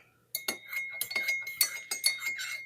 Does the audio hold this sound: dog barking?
no